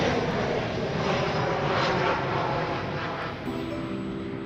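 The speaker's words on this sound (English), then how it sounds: "This is Frontier 4464 arriving from Denver. It's an Airbus A320." Frontier Airlines Airbus A320 jet arriving at Dallas Fort Worth airport, a loud sustained broadband engine roar that holds steady, with a faint whining tone emerging near the end.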